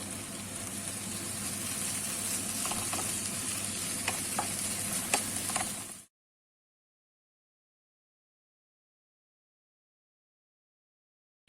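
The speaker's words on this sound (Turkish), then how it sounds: "Yumurtasını da katıyorum. Bir kere karıştırıyorum. Kavurarak pişiriyorum." Chopped leeks and eggs are stirred and sautéed in a pan, giving a steady sizzle with scattered light spatula clicks, then cutting off to silence after about six seconds.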